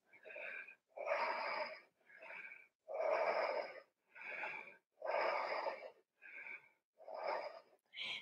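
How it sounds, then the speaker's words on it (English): Deep, slow breathing during a yoga vinyasa flow, with about nine long, audible inhales and exhales in an even rhythm, close and breathy with quiet pauses between them. "Five deep breaths."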